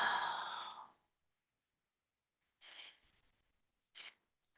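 Breath exhaled during a beginner yoga class, one long, audible sigh-like exhale at the start, then two shorter, softer breaths after a silent pause.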